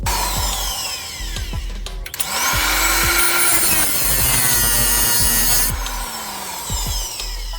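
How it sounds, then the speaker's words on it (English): Power tool cutting through a seized nut on a Toyota sway bar link, a loud continuous grinding whine that shifts pitch as the blade bites, with brief pauses and restarts, close up. "I will have to cut this nut to remove it."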